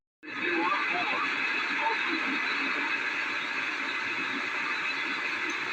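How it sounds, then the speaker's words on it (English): A Realistic DX394 general coverage receiver tuned to the CB band gives a steady, loud hiss of static that switches on abruptly and holds, with faint broken voice fragments buried in the noise. "A little bit scratchy, but picking up the CB band"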